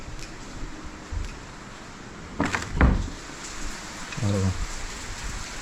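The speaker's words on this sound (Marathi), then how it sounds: "पाऊस किती जोरात होतो" Heavy rain falls steadily with strong wind in a village house in the Konkan, a constant hiss with a few knocks and thuds, and people speak briefly over it.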